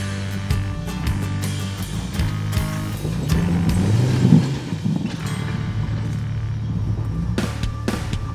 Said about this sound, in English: This nice TJ has a 4-inch lift, 488 ratios and rolls on 35-inch tyres.